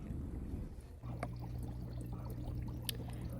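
Water pours and trickles steadily as a baby fish from a pet store is released into an aquarium tank, with a constant low hum underneath and a soft splash near the end.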